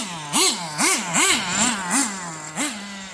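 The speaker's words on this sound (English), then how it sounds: "It just loses control on full throttle." HPI WR8 nitro RC rally car engine at full throttle, a loud, close, buzzing whine that surges and dips in repeated rhythmic revs, about six pulses in quick succession.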